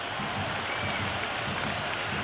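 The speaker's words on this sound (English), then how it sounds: "There's a buzz, a real buzz coming from the stands." Enthusiastic cricket crowd buzzing in the stands at an IPL match, Gujarat Titans against Punjab Kings, a steady dense roar with scattered applause, loud and continuous with no clear peaks.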